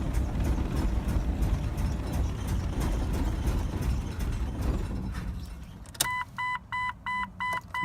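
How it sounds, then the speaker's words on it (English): Car fuel pump priming the fuel rail after a fuel injector upgrade, a steady mechanical whir and buzz that fades, then a run of evenly spaced electronic beeps near the end, with no talk. "turn it on, let the fuel pump get some fuel to the rail"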